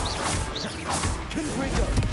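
In the Hogwarts Legacy video game, a Confringo spell blast crashes and smashes within dense, loud combat noise, with sharp impacts repeating through the fight and a voice calling out.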